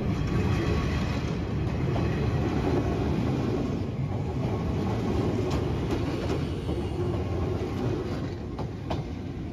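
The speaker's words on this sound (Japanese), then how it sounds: "列車の通過を見ることにしました" A train rumbles past close by near a level crossing in Odawara, Japan, a steady heavy roar of wheels on rails with faint clicking from the cars throughout.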